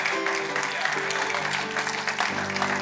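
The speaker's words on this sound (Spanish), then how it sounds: "Denle ese aplauso fuerte a Cristo" A church congregation claps strongly, a steady spatter of applause layered over sustained musical tones that shift pitch partway through.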